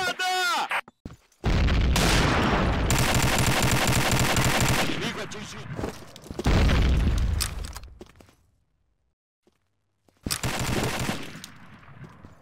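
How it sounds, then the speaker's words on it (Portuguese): In Combat Arms, loud sustained bursts of heavy gunfire and blasts come in long dense stretches separated by brief silences, close and overpowering, with a grenade explosion in the mix. "Granada!"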